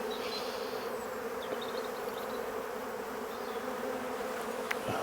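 Bees buzz steadily in an open beehive during a spring inspection as frames are moved, a dense close drone with a few faint clicks of handling.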